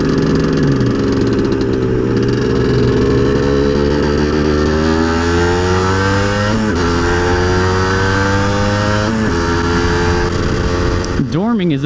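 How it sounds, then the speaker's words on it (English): Harley motorcycle passing on a street, its engine note rising and shifting through gears as it goes by, heard close and loud while a person talks over it. "Oh, there's a motorcycle. That's nice. Harley."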